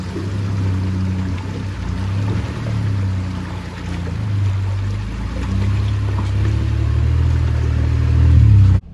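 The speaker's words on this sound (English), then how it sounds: "The truck seems to be running fine" A truck engine drones steadily while driving off-road on a Georgia adventure trail, a loud, close low rumble with shifting pitch as the vehicle works over rough ground, rising toward the end before cutting out.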